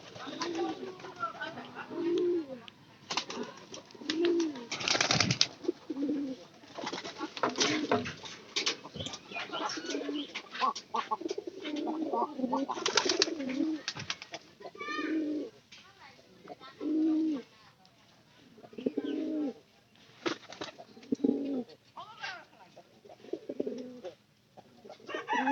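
Pigeons coo in repeated soft, low phrases nearby while someone talks over them, with occasional wing flutters and background clatter.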